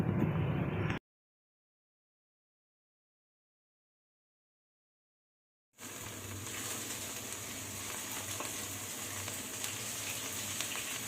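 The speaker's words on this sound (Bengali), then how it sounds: "এখন 1 চা চামচ আমি আদা রসুন দিয়ে দিব, দিয়ে ভালো করে একটু আদা রসুনগুলো ভালো করে ভেজে নিব।" Ginger garlic paste frying in hot oil in a home kitchen pan while cooking a chital fish curry: a steady, loud sizzle that begins abruptly after a silent gap and holds without talk.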